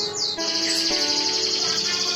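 A male canary kept beside a female canary sings a continuous, loud, close trilling song of rapid high chirps and tones.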